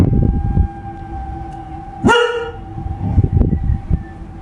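A single short, high yelp or bark rings out midway over low rumbling background noise, close and fairly loud.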